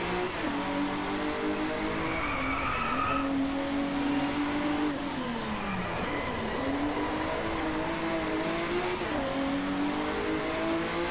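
A race car in Driveclub, on a Japanese track, weaves through S-turns, its engine note revving up and dropping with each bend while the tires squeal faintly. The engine sound is loud and unbroken, with no voices.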